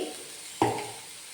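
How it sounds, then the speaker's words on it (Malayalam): Chilli, coriander and turmeric powders are sautéed in a pan: a single soft stir-and-clank of the utensil, followed by a brief, faint sizzle in a quiet kitchen. "ഇത്രയും ചേർത്ത് ഇത് നന്നായിട്ടൊന്ന് വഴറ്റിയെടുക്കണം"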